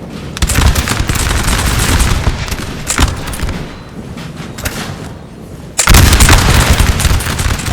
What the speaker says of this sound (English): that's a really brutal volley actually from the French there